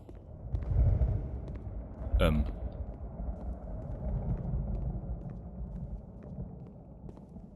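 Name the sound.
thunderstorm rumble in the video game The Beginner's Guide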